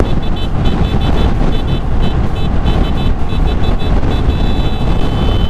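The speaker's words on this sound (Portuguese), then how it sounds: "toco sempre a buzina assim" A car horn sounds in repeated short toots over loud, steady road and wind noise inside a moving vehicle, with no talk.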